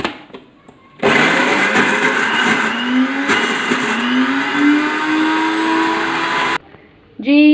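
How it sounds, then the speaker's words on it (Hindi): A blender grinds onion together with the other ingredients for a homemade shawarma sauce. It runs as a loud, steady whir for about five seconds, its pitch rising as the mix breaks down, with quiet moments before and after. "ये वाली प्याज भी इसमें जाएगी और सारी चीज़ों को हम पीस लेंगे अच्छी तरह।"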